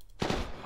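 A sudden burst of rapid gunfire in Arma 3 cuts in after a quiet moment, loud and close with several overlapping cracks.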